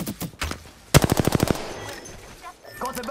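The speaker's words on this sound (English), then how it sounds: "They're shooting at me" Rapid automatic gunfire in the Apex Legends video game, a loud burst of about ten evenly spaced shots in quick succession, with softer scattered game noise before and after.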